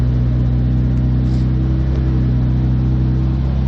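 A Toyota Supra engine running on an AEM Infinity engine management system, a steady, loud low-pitched idle drone holding evenly throughout with a faint rev-like rise midway and no talk.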